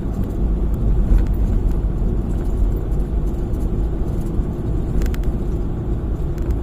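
A car driving along the Amadeo Tagaytay bypass road and overtaking, heard from inside as a steady, close engine rumble and road noise with no break, no voices over it.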